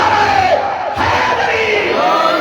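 A large religious gathering shouts its reply to the Naara-e-Haidari slogan, a loud, sustained massed roar of voices close up, swelling and dipping briefly before continuing.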